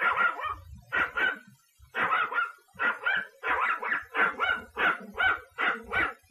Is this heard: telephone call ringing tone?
no